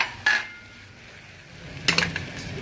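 An omelette turned from a plate back into a kadai, two sharp clinks of plate and utensil against the pan separated by a quiet gap with faint sizzling beneath.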